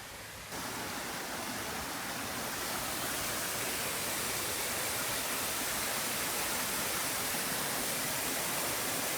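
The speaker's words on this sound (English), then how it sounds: "A little bit of a waterfall." Small waterfall on a forest path in the Polish mountains, a steady broadband rush of falling water that swells up after a brief quieter start and then holds constant, with no voices.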